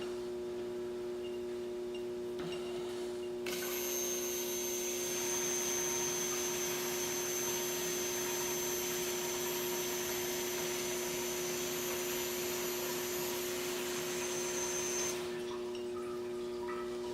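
Electric fuel pumps for a Honda Civic fuel system run, pumping fuel with a steady, close whirring drone that rises into a brighter, louder whine for several seconds before settling back, with no voices.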